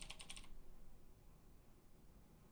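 A computer keyboard clatters with a quick burst of several close keystrokes, then stops, leaving only a faint room hush.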